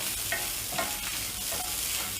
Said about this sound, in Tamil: எல்லாத்தையும் ஒன்றா கலந்து தேங்காய் நிறம் மாறுற வரைக்கும் அதை ரோஸ்ட் பண்ணி எடுத்துக்கோங்க